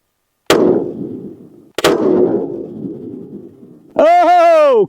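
A Tikka rifle fires two loud, sharp shots about a second apart, each followed by a long rolling echo, and a rising tonal ring comes right after.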